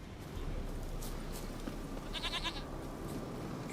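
A goat in The Witcher 3 bleats a few times in a quiet game scene, short faint wavering cries rising over a low background hum.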